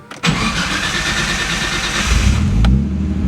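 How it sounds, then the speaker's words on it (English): A car, either a Toyota Supra or a Nissan S13, cranks over briefly and fires up, then settles into a loud, steady idle close by with a slight rise in rumble near the end. "So let's start the car."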